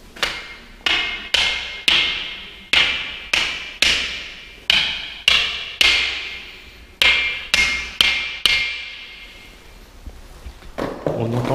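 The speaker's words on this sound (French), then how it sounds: "La fameuse roche sonnante que je vous parlais." The ringing rock at Castennec being struck repeatedly with a hard object, about fifteen sharp resonant knocks in a steady rhythm, each with a short ringing decay, close and fairly loud, fading into rustling outdoor noise at the end.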